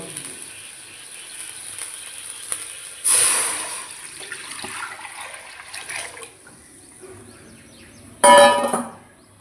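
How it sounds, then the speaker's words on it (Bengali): Water is poured into a wok sitting on a gas stove in a home kitchen, two short gushing splashes a few seconds apart, each ending abruptly, with faint background chirping and quiet room noise between them. "গ্যাসে কড়াই বসে দিয়েছি এখন দিয়ে দেবো জল"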